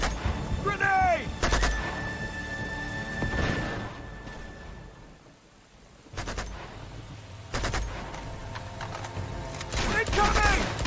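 Grenade blast and gunfire in a combat firefight from Uncharted 2 on Crushing difficulty, with sharp bursts and loud booms recurring across the span while shouted voices call out over the battle.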